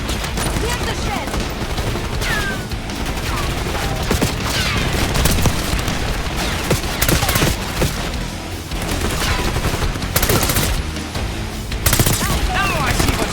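Minigun fire in the Call of Duty: Black Ops 6 campaign, long loud bursts of rapid gunfire with booms and impacts, broken by brief pauses, while voices talk intermittently amid the battle.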